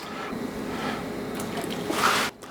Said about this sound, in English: I'm going to go ahead and put the turkey breast in there.